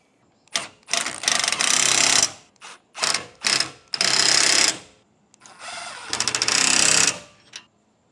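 A ratchet tightens bolts on an awning mounting bracket, several quick bursts of rapid clicking separated by short pauses, close and loud.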